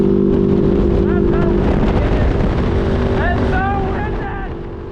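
A Kove 450 Rally motorcycle engine held at full throttle around 6,000 RPM on the highway in sixth gear, droning steadily and loud with wind rush, a person talking over it.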